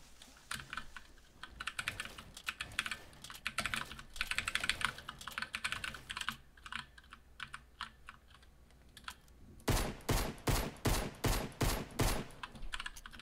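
Combat shotgun fire in a Fortnite-style video game: steady keyboard clatter runs throughout, then a rapid, evenly spaced burst of about seven loud shots closes it out.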